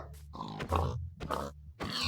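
Pig grunts from a video game, several short rough grunts in bursts with brief gaps between them, fairly loud and close, over a low steady game background hum.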